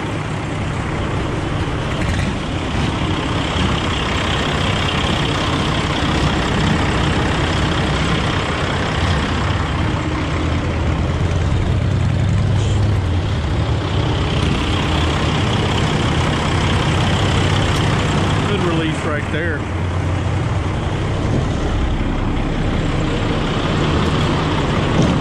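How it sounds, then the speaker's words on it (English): A 2012 Peterbilt 386 truck engine idles close by with a steady, loud diesel rumble that holds unbroken throughout, with a faint hiss midway. "Motor's running good."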